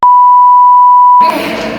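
A loud, steady censor beep tone holds for over a second, then cuts off abruptly into the speech it was covering.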